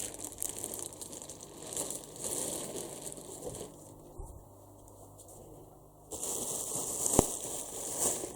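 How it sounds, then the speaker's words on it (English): Close, crackly crinkling of bubble wrap comes in bursts, fading quieter in the middle before a louder burst of rustling at the end. "And a bunch of bubble plastic."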